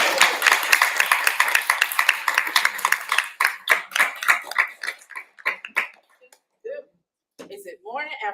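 An audience at a climate justice town hall applauds to welcome a speaker, with dense sustained clapping that thins into scattered claps and then gives way to talking.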